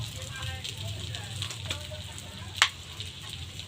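Eggs frying in a pan for egg masala, a low crackling sizzle with one sharp pop, heard under a voice speaking.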